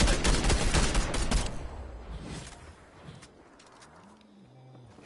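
Rapid bursts of gunfire from a Fortnite match, loud and dense in the opening second and a half, then thinning to scattered distant shots over quieter game ambience with a tonal in-game sound near the end.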